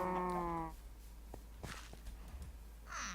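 A cow in the video game Minecraft gives one short moo at the start, followed by a few soft clicks and footstep-like taps.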